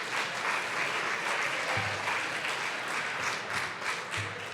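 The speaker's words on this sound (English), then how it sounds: "if we could just take a second and applaud the nominees for great" A room full of people applauds award nominees at an entrepreneurship event, an even, continuous roar of clapping at moderate distance that holds steady, with a few low thumps underneath.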